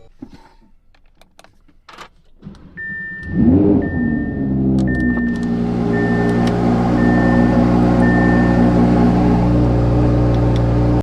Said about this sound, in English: I'm gonna go ahead and back the Trackhawk up into the driveway